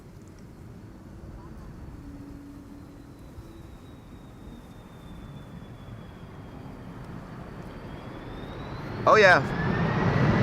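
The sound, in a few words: Delta Air Lines Boeing 757 arriving at Schiphol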